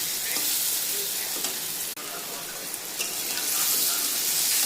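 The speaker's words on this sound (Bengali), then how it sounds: "ভালো করে নাড়াচাড়া দেবো, একটু ভাজা ভাজা হবে," Salt and turmeric stirred and fried in a pan for Bengali hilsa cooking, a steady close sizzle with scraping stir strokes running throughout, with no talk.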